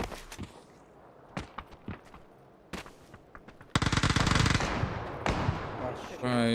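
Shotgun blasts and gunfire in PUBG during a championship match, sharp loud bursts over a sustained dense crackle of shots, with voices talking now and then.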